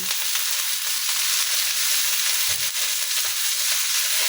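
Shredded cabbage and egg fry in a pan, a constant close sizzle with occasional soft scraping thumps from stirring, no voices present.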